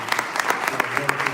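A room of people at a town board meeting claps steadily for the staff, a dense patter of many hands with brief sharper peaks, fairly close and filling the whole moment.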